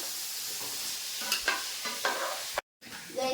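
Onions frying in a hot pan and being stirred, a close steady sizzle broken by several scraping spatula strokes, then a brief dropout of sound before the sizzling resumes.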